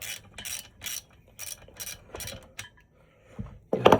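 A ratchet wrench undoes a bolt on a small engine's governor and throttle linkage, giving repeated clicking bursts at a steady rhythm with short pauses, then a louder close rattle at the end.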